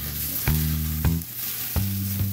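Burgers sizzle on a grill with a steady frying hiss, broken by a few sharp clanks and scrapes of a spatula, each followed by a low ringing hum, close by with no talk.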